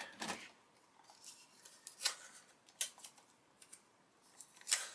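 Tape pulled and torn off a roll while taping together the halves of a 1/35 Border Model Ju87 Stuka kit, a handful of quiet, crisp ripping and crackling bursts separated by near silence.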